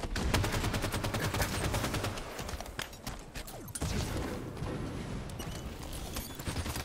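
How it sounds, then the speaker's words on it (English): Halo 5 light rifle fire rings out in a multiplayer free-for-all match, with dense, continuous shot bursts and battle noise that stay loud throughout. "Light rifle. Not even good with this thing,"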